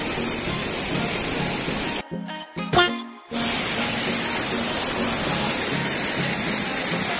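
Parth waterfall pours with a loud, continuous roar of falling water and spray, close by, broken by a short gap of near silence partway through.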